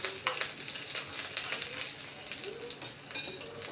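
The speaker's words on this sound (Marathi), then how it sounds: "2 हिरव्या मिरच्या घालायच्या. यानंतर थोडंसं आलं घातलं आहे. 3 ते 4 कढीपत्त्याची पानं घातली. हे सगळं परतून घेऊया एकदा." Green chillies, ginger and curry leaves sautéing in hot oil, a soft steady sizzle broken by light clinks and scrapes of a spoon against the pan, close and fairly quiet.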